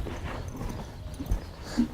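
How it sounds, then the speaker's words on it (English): A ridden horse canters at a deliberately shortened, collected stride, its hoofbeats sounding as soft, rhythmic thuds close by in an arena-like setting, with no talking. "trying to ask this horse to canter as short a stride as he can"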